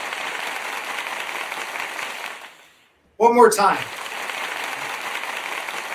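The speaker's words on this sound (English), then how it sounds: "Let's get an applause." Recorded applause plays during a live stream, a hissing crowd-clapping wash that cuts out briefly while a voice speaks, then resumes steadily.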